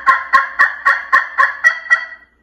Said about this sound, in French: l'ardoise à double side qui va venir nous donner des sons, un son différent